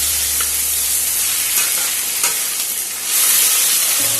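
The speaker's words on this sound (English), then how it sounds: "add a few grains of sugar, a few granules of sugar into the pan on the oil" Sugar and onion sizzle loudly in hot oil in a pan, a dense, steady crackle with a few stirring scrapes, close and continuous with no talk.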